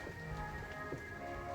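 Steady rain falls continuously, a dense even hiss of drops hitting a surface, with no voices and nothing else standing out.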